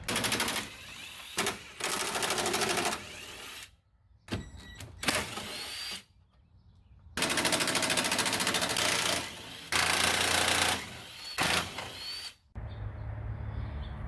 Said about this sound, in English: So we'll go ahead and go through and loosen all these bolts.